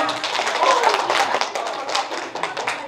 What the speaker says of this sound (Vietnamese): Một tràng vỗ tay nghe nào